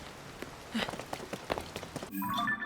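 Rain falling in Zelda: Tears of the Kingdom, a soft patter of drops on surfaces with scattered clicks and splashes, quiet and continuous, with no talk.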